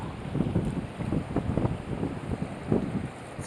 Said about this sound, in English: It's getting cold and windy.